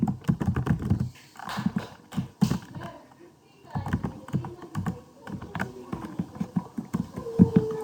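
Clacky computer keyboard keystrokes typing C++ code, irregular clusters of close taps with pauses between them, while someone speaks throughout.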